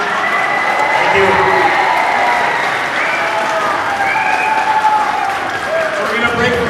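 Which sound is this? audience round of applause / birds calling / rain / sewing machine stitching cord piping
audience round of applause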